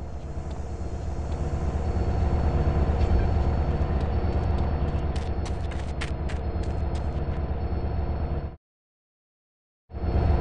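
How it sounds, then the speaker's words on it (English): A train rumbles past in GTA San Andreas, a loud steady roar of wheels and engine with scattered high metallic clicks, cutting off abruptly to silence near the end before resuming. "Go check out the train, CJ."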